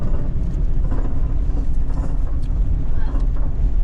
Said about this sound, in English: We're on the back of a rollback right now, heading back home.